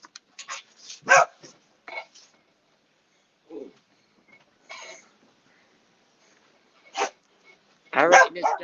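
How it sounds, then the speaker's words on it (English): A dog barks in short scattered bursts, some sharp and close, with quiet gaps between and a louder cluster near the end. "I reckon this dog's wanting something to eat. That's why he's barking."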